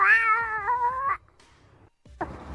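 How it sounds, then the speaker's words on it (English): A pet cat gives a long, loud, wavering meow up close, then falls quiet and starts another call at the end. "He's talking to his cat."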